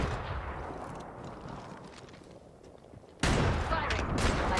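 Apex Legends gunfire, a dense rumbling barrage of shots that steadies, then jumps louder and sharper for the final second and a half.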